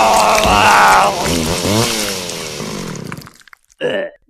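A chainsaw roars loudly as a sound effect in a comedy sketch, its pitch bending up and down before it cuts off, with brief voice-like bursts following.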